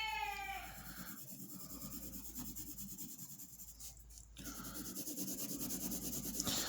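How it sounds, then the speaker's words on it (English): A pencil shades hard on paper, making continuous scratchy, rubbing strokes that press into the sheet. The strokes pause briefly midway and then resume, close up and fairly loud. "I'm putting a lot of weight on the pencil to get a little bit darker."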